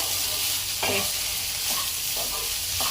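Spring onions stirred into restaurant-style Chinese egg fried rice in a hot pan, a steady close sizzle broken by several scraping stirs of a spatula, with no talking.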